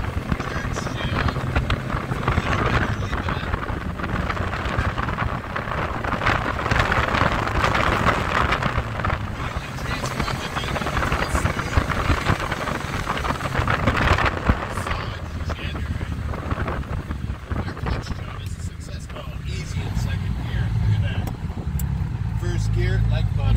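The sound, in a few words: Ferrari 246 Dino driving and shifting into second gear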